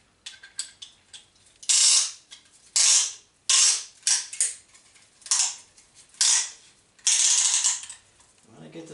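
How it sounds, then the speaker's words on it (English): Spring compressor being tightened on an engine block, giving a run of close ratcheting clicks and metallic creaks in irregular bursts with short pauses between. "I'm gonna get the spring compressor on here."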